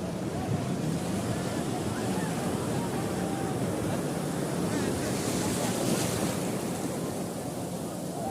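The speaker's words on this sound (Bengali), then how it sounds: "আমরা ঢেউগুলো দেখছি, ঘন ঘন খুব ঢেউ আসে" Frequent waves crash and churn along Sugandha Beach at Cox's Bazar, a dense, steady roar of surf close by, mixed with wind rumble on the microphone and faint voices.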